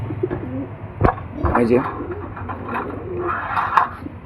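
Old desi high-flyer pigeons cooing in a loft, soft throaty coos under a man's nearby speech and some background noise.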